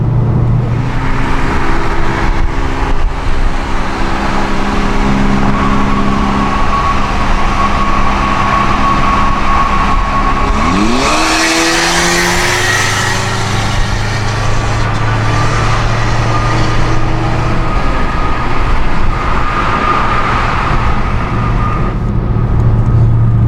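Car engine roaring through a video game race, a steady loud drone with tonal harmonics that sweep down sharply midway as the gears shift, then settle into a new sustained pitch.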